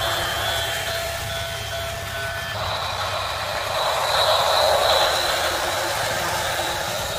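Plarail Kintetsu Urban Liner toy train, a battery-powered plastic city train, running along its track over a bridge, giving a steady close whirring motor hum with faint rattling that swells slightly midway.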